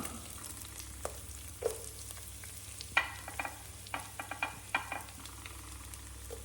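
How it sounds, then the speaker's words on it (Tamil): Small shallots fry in ghee as a tempering for ghee rice, with a steady low sizzle, crackling pops and occasional stirring scrapes, close and fairly quiet. "இப்போ தாளிப்புக்கு வச்சுருந்த சின்ன வெங்காயத்தை சேர்த்துக்கலாம்."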